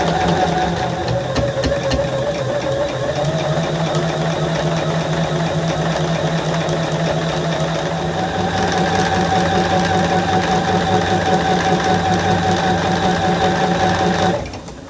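Sewing machine stitching through all layers of a quilted project with linings, a loud, steady mechanical whir with rhythmic needle chatter that runs without pause and then stops abruptly at the end.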